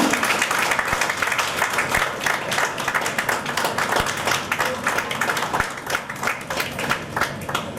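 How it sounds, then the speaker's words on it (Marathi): An audience at a felicitation ceremony applauds continuously, dense steady clapping from many hands filling the hall at even loudness throughout, with no voices rising above it. "टाळ्यांचा कडकडाट होता"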